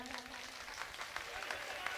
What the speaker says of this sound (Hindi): सरपंच जी 501 रुपये जोरदार तालियां